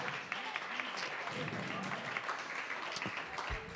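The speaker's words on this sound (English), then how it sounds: "have an incredible round of applause for Marina Lecomber and Louis Riccardi" Audience applause at a live music venue for two performers, a dense, even wash of many hands clapping heard from within the room, sustained for the whole stretch without a break.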